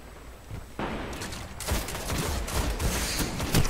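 Heavy weapon gunfire in a Destiny Clash match, a dense rapid barrage of shots that starts abruptly and keeps pounding loud and close for several seconds.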